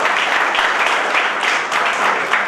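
An audience at an engineers' get-together and certification ceremony applauds loudly, a close, dense and continuous burst of clapping with slight swells, no voices standing out.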